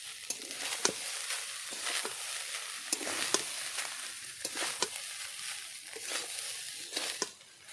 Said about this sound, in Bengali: এবার সমস্ত কিছু একসঙ্গে আবারও মিশিয়ে নেব।